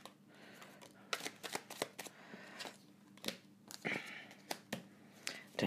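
Tarot cards being shuffled in a quiet room during a reading, a run of crisp riffling bursts and sharp flicks close to the microphone, irregular and fairly soft, with a faint steady hum beneath.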